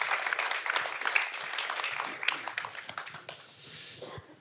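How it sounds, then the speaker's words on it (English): Applause from a film festival audience after a screening, a steady dense patter of many hands clapping at moderate loudness for a few seconds before thinning out. "Applause for all."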